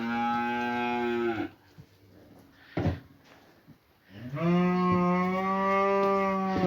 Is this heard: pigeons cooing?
no